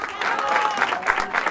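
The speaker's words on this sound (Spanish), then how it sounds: "Un aplauso para todos ustedes." Audience applause with scattered clapping from a crowd at a tribute concert, moderately loud and continuous for a moment, with voices mixed in.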